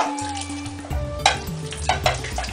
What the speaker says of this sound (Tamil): இந்த மசாலா வந்து சிக்கனில் எல்லா பக்கமும் படுற மாதிரி நல்லா மிக்ஸ் பண்ணுங்கள்